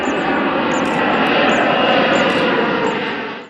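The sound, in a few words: airplane engine in a played viral video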